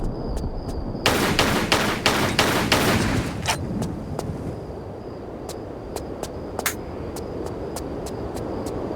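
Lara Croft firing her guns in a Tomb Raider game, a rapid burst of loud repeated gunshots followed by slower spaced single shots over a steady background hum, close and sharp.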